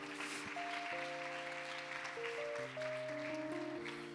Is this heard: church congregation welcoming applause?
yes